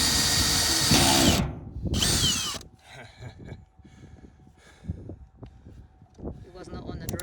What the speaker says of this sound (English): This step drill goes all the way to 2 3/8